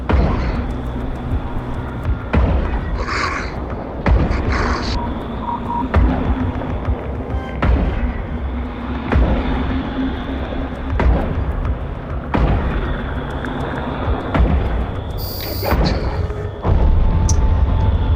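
Spaceship weapons open fire in the game EVE Online, a run of loud, heavy booms and blasts repeating over a steady low hum, with a few sharper bursts in between.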